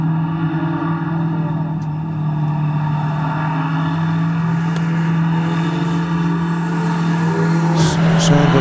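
Subaru WRX race car at a wet hillclimb, a continuous engine drone with a strong low hum that rises slightly toward the end, steady and moderately loud throughout.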